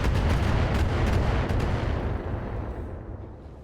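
A catapult mech fires a heavy barrage at an Orion in the video game RogueTech, giving a loud, dense roar of blasts that rumbles low and slowly dies away.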